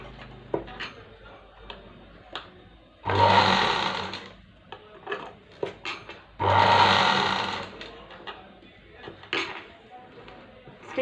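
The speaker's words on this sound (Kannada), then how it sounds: "ಸ್ಟಿಚ್ ಮಾಡ್ಕೊಂಬಿಡಿ." An electric sewing machine runs in two steady bursts of a few seconds each, stitching a cross strip of fabric, with small clicks and handling noises between the runs.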